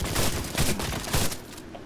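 A short, dense flurry of overlapping gunshots in Cyberpunk 2077, loud and crackling, fading out toward the end.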